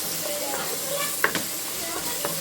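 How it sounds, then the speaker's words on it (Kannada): Spices with turmeric frying in a pan make a low, even sizzle close by, with a couple of brief metallic scrapes from stirring; a voice is faintly present underneath. "ಆ್ಯಂಡ್ ಇದನ್ನೆಲ್ಲ ನೀಟಾಗಿ ಫ್ರೈ ಮಾಡಬೇಕು"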